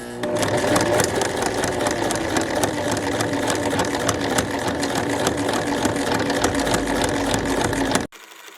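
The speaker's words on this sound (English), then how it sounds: "I'm going to start with a back stitch and then go forward, just taking my time and staying inside that seam" A sewing machine back stitches along the waist seam of a pair of pants, running loud and steady at close range for about eight seconds before stopping abruptly.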